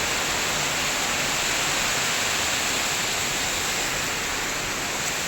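Water rushes continuously at a scenic outdoor spot, a dense, loud, steady wash like a waterfall or fast stream, with no voices.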